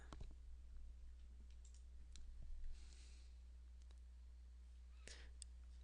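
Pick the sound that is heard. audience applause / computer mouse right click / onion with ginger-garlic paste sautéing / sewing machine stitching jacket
computer mouse right click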